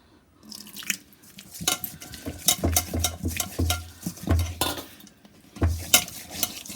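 Fish biryani masala with ginger-garlic paste and curd mixed in a bowl, with a series of wet squelching stirs and spoon clinks against the bowl, close, rhythmic and moderately loud, no talking.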